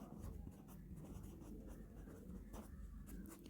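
Pen or chalk scratches across paper in short strokes while a math problem is worked out during a lesson, faint and close with low room noise and no talking.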